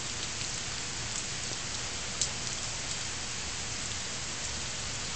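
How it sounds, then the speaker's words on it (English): Rain falls steadily during flooding in Chicago, a soft even hiss of drops on surfaces with one brief tap partway through, no talking. "it's not even raining that bad right now"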